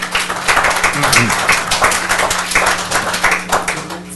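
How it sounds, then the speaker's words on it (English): Audience applause at a city council meeting, a few seconds of steady scattered clapping from a crowd in a hall, moderately loud and fairly dense, with faint voices mixed in. "Folks, please don't applaud even though you agree with the speaker like that."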